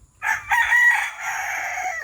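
Native Tagalog chickens, some mixed with Texas breed, with a rooster crowing in a long drawn-out call amid clucking from the flock, fairly close and alone without talk.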